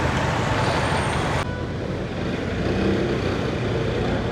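A car drives along the road after being refuelled with petrol, giving a steady close rumble of engine and tyres with traffic noise throughout and no voices.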